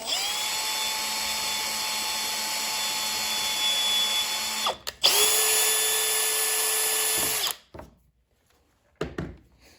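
A power drill tapping a hole in a rustic cabinet door knob setup, whining steadily for several seconds, briefly stopping, running again at a lower pitch, then cutting out to near silence before a short final burst.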